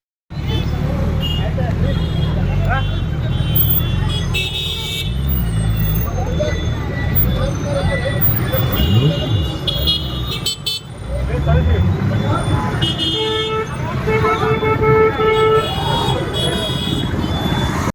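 Congested road traffic near a hotel and a grass market in Kolhapur, with repeated vehicle horns tooting over a rumbling mass of engines, a bus among them, and a crowd babbling nearby.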